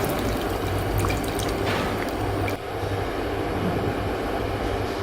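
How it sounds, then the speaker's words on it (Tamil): Tamarind water pours steadily into a pot of sambar cooking with jackfruit seeds and dal, making a continuous loud splashing wash that briefly dips partway through. "புளி தண்ணி அதையும் சேர்த்துறேன்."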